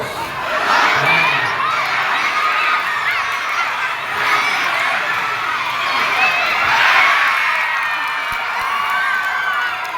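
Crowd noise at a youth boxing match: a loud, steady roar of cheering and shouting voices, with children's high-pitched yells, swelling around the middle and again near the end.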